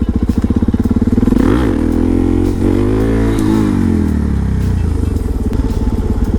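A Suzuki DRZ400SM supermoto single-cylinder motorcycle revs close and loud, its engine note climbing and dropping as it shifts through the gears, with a steady throbbing pulse throughout.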